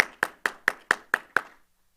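Six evenly spaced hand claps, sharp and close, then silence; a sparse round of applause for a panelist at a panel event on digital inclusion.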